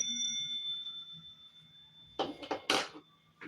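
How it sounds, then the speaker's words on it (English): A suggestion bell used for training a dog: a sustained ringing tone lingers at first, then a few bright metallic dings and clatter ring out close by. "It's a suggestion bell"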